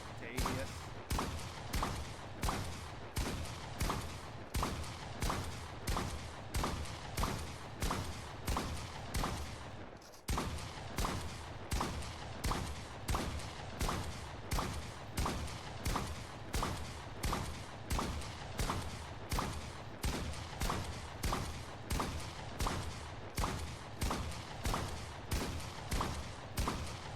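Rapid, evenly spaced gunshots fire in Fortnite in a long rhythmic string of sharp bursts, pausing briefly once before resuming at the same steady pace.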